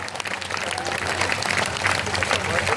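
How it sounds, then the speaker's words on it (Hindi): A crowd at a religious annual general assembly applauds with loud, sustained clapping that continues evenly throughout, with faint voices mixed in. "हम जोरदार तालियां बजाएं।"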